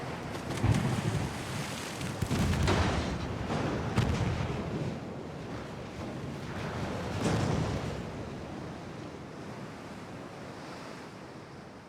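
Naval gunfire salvos in the warship game Ultimate Admiral: Dreadnoughts, several deep booming blasts spaced a few seconds apart over a constant rush of ocean waves and wind, fading toward the end.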